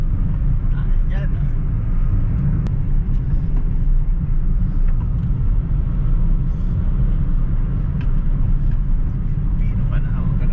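A 2017 Hyundai Accent 1.4 with low power idles at a steady RPM, producing a loud, constant low rumble with no clear rhythm, while nearby voices talk over it.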